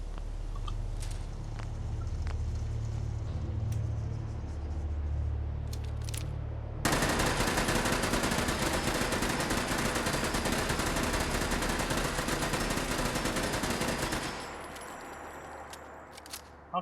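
Automatic fire from a 5mm weapon in the video game Fallout 4, a dense, loud continuous burst of rapid shots lasting about seven seconds, following quieter ambient game sound and trailing off into softer background noise.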